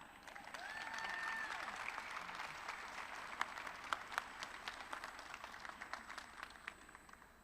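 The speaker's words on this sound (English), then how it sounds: "another big round of applause for surgical technology." Applause from an audience at a pinning ceremony for surgical technology students, a steady wash of many hands clapping that swells early then thins into scattered individual claps toward the end.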